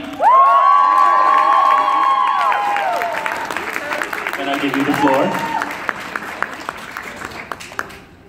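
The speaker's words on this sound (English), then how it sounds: "give a huge round of applause for Tracy" Crowd cheering, whooping and applause greet the convention president at the Ai-Kon 2017 closing ceremonies, loud at first, then tapering into scattered claps, with a voice speaking over it early on.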